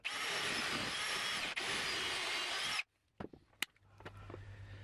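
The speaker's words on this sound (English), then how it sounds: "So I've just gone to drill the dowel holes in the top and bottom of this box" A power drill bores dowel holes into a wooden box, whining steadily at a high pitch for nearly three seconds with a brief dip, then stops, followed by a few light knocks and handling clatter.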